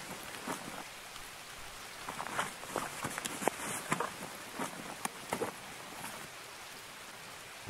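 Rain in the Escape From Tarkov video game patters and spatters steadily on surfaces, soft overall, with scattered sharper drips and taps through a quiet hiss.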